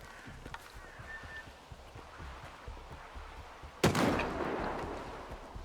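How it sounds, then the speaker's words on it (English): A single sharp sniper rifle shot cracks out midway through the Stalker 2 game, ringing into a rumbling tail over faint background ambience and a few soft thuds. "He's got a sniper rifle or what?"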